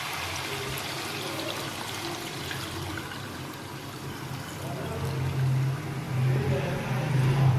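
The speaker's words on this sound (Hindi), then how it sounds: "अब मैं इसमें डाल रही हूँ यखनी" Mutton broth (yakhni) pours into a pot of goat trotters, a continuous splashing, gurgling stream that swells louder toward the end, close by, with no talking.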